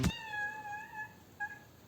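A cat meows close by, one drawn-out meow followed a moment later by a short second one, in a quiet room with no speech.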